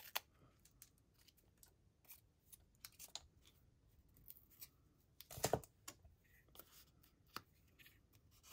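Scissors cut paper for a beach-themed art journal over a light box, quiet close snips and rustles with one louder crisp cut midway.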